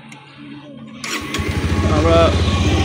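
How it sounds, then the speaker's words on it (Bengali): A motorcycle on a road trip is quiet at first, then its engine fires abruptly and settles into a loud, close, steady idle with a rapid pulsing rhythm. "আবার বাইক স্টার্ট করি"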